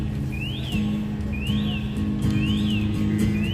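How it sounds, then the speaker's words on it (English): A person whistles a repeated rising-and-falling call about every second over a steady low hum, each call clear and moderately loud. "There's that guy whistling at me."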